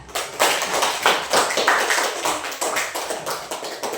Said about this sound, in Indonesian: Ya tepuk tangan untuk Indah